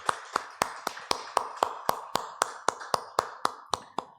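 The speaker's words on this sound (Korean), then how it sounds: "우리 하나님께 영광의 박수 올려드리겠습니다." Steady, evenly spaced sharp claps ring out about four per second during a church worship service, crisp and fairly close, with no voices over them.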